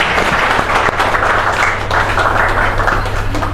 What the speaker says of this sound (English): So can we all clap for the institution?